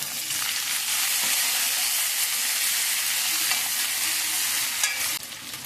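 Chopped garlic and sliced onions fry in hot oil, a dense, steady sizzle close up with faint stirring scrapes, loud and continuous before easing at the end.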